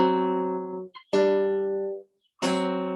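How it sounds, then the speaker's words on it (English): Three sustained tones with a clean, synthetic timbre sound one after another with short gaps between them, forming a diminished fifth, each fading out, clear and alone. "It's a fifth that's too short, so it sounds like this."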